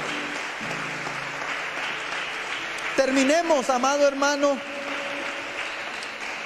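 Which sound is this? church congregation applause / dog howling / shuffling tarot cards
church congregation applause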